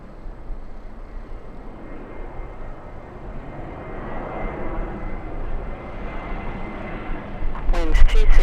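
Lufthansa heavy jet taking off from runway 24 left at Los Angeles airport on a gusty day, a broad engine roar building steadily and growing louder toward the end, with voices faintly underneath.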